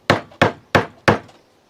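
Four sharp, evenly spaced chisel strikes on scrap wood during a rustic farmhouse kitchen island build ring out close and loud, each a hard wooden knock that fades quickly, with no talking.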